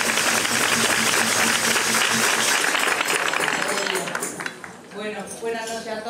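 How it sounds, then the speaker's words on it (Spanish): Audience applause marking the end of a fifteenth-anniversary celebration of the Parranda de Manilva, a Spanish folk music group. The clapping is dense and steady, fades away near the end, and talking carries over it at the close. "así que un aplauso final."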